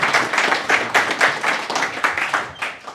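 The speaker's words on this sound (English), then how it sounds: "So round of applause, please." A small audience at a data and AI tech meetup claps for the speakers, individual hand claps audible in a loose, uneven rhythm, fairly close and fading slightly toward the end.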